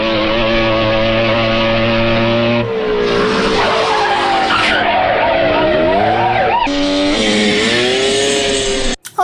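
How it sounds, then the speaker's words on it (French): Motorcycle chase in a Rambo film, with tires skidding and squealing in long, wavering screeches over a loud, continuous engine roar that swells and shifts throughout, ending in an abrupt cut. "Rambo parvient à s'emparer d'une moto et une course-poursuite s'engage."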